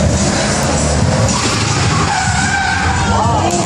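A car skids loudly through a precision driving stunt show at the Manila International Auto Show, tires squealing under a revving engine, with a voice talking over it.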